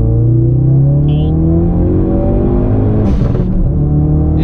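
A SEMA-built Ford Focus RS engine accelerating hard, a loud, close rising engine roar that climbs in pitch, with a brief shift and a renewed surge, heard from inside the car with no talk.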